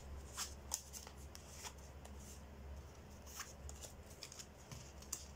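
A deck of cards shuffled for a card reading, a steady run of soft riffling flicks and papery slaps close by, fairly quiet with a low hum underneath and no talking.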